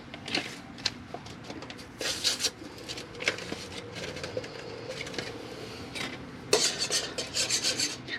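A small wire whisk scrapes and rasps steadily in a pan as gravy mix is stirred, with brief louder bursts of close, scratchy strokes.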